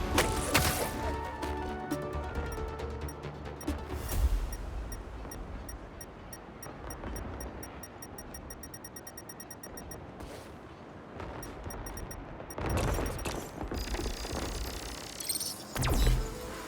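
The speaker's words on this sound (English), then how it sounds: "Fireworks? Better warn those guys they're illegal here without a permit before someone calls the cops on them." Fireworks burst in the Spider-Man 2 video game, a run of sharp cracks and thumps with a loud cluster at the start, scattered pops through the middle and heavy booms near the end.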